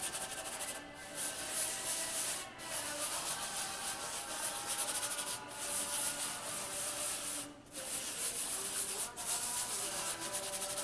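Flour is rubbed into a painting's surface to clean it, a close, continuous scratchy rubbing in repeated strokes with short pauses between passes.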